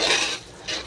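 A utensil scrapes and clanks through garlic fried rice in a pan, two quick bursts of metallic stirring with a short pause between, close and fairly loud.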